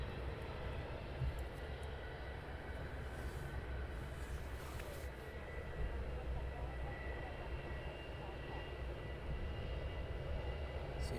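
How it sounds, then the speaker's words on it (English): A business jet taxiing at Luton Airport during the early morning, a faint, steady distant engine whine and rumble holding evenly under a low wash of background noise. "And we have a Bizjet taxiing out as well."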